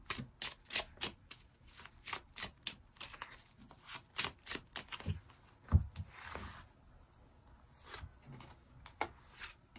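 Tarot cards are shuffled and drawn at close range, giving a steady run of crisp riffling flicks and soft slaps with brief pauses between bursts. No voices.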